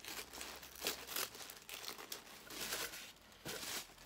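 Bright yellow tissue paper crinkles and rustles in close, repeated bursts as a knitting subscription box is unpacked, with no talk over it.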